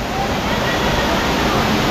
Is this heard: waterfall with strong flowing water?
yes